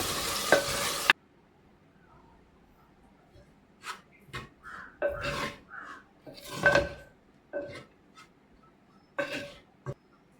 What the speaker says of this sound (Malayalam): നന്നായി ഇളക്കി മൂടി വെച്ച് നമുക്ക് വേവിച്ചിട്ട് വഴറ്റിയെടുക്കാം